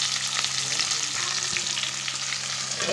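Stuffed brinjal curry with curry leaves frying in a pan, a steady close sizzle and crackle of hot oil running throughout with no talking.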